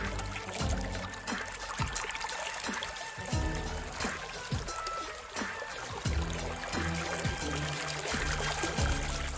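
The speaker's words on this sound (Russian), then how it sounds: "Подставьте емкость и собирайте ценную дождевую воду для полива овощей." Rainwater pours steadily from a greenhouse downpipe into a collecting container, a continuous splashing rush with rhythmic low gurgling surges every second or so, under a faint voice.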